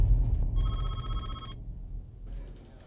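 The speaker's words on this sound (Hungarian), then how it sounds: "Nem veszi fel a telefont." A telephone rings unanswered in a Hungarian-dubbed film: one clear electronic ring lasting about a second, followed by quiet over a low background rumble.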